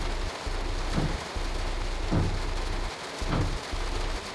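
Steady heavy rain pours in the train simulator game Train Sim World 3, with three low rumbles of thunder rolling through at regular intervals.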